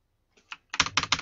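Keys clatter on a computer keyboard during a Digimon RPG session: a couple of faint taps, then a quick run of four or five crisp, close clicks.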